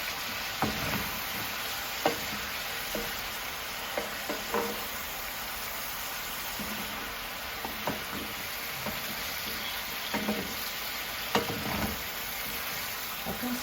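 Mushrooms sautéing in a pan for a meat and mushroom sauté, a steady low sizzle with scattered clicks and scrapes of a spoon stirring through them, close and moderate, no talk.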